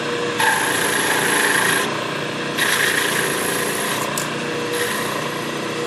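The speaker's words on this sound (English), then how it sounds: "We'll finish this plunge cut here." A milling machine finishing a plunge cut for a large slot in metal: a steady motor whine with loud grinding, cutting bursts that start and stop in cycles, close and with no talking.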